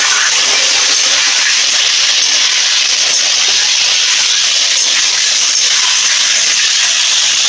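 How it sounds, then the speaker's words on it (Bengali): Potatoes and gathi kochu (taro) frying in a pan in a home kitchen, giving a steady, loud sizzling hiss that runs unbroken throughout with no talking. "আলু আর এই গাটি কচুটাকে আমি ভালো করে একটু ভেজে নেব।"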